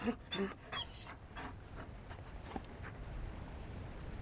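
A Mabari war dog in Dragon Age: Inquisition pants rapidly and lets out soft whimpers. The sound is close and fairly quiet, with a few short yips near the start.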